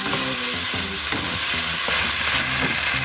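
Cauliflower and carrot sautéed in a pan with shrimp, loud close sizzling and crackling over repeated scraping stirring strokes, continuous throughout.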